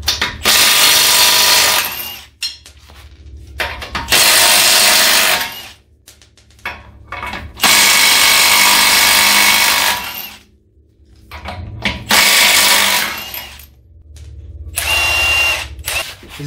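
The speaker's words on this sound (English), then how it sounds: "I zipped out the lug nuts pretty good" A stubby cordless impact wrench removing lug nuts from a Jeep YJ, loud and close in several long hammering bursts of a couple of seconds each, separated by short pauses.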